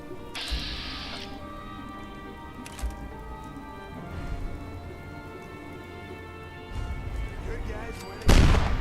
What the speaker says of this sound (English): There was an explosion.